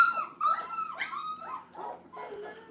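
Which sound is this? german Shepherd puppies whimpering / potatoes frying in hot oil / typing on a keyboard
german Shepherd puppies whimpering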